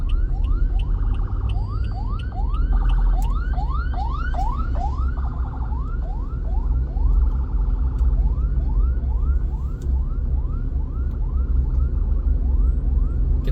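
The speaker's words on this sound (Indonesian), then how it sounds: "Ambulan guys, ambulan," An ambulance siren wails repeatedly in fast rising sweeps on the road, loud and close for the whole stretch over traffic rumble, with no talk.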